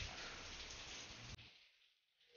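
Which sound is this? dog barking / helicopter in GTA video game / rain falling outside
rain falling outside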